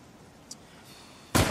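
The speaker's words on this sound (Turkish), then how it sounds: "Silah sesi miydi o?" A single sharp, loud bang bursts out near the end after quiet ambient background, like a nearby gunshot.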